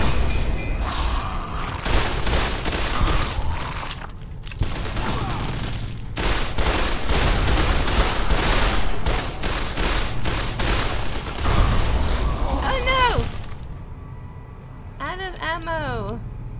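Fallout: New Vegas gunfire, including a laser rifle, in heavy repeated volleys with booms and mechanical clatter, loud and continuous for most of the span before easing into quieter whooshing weapon sounds near the end.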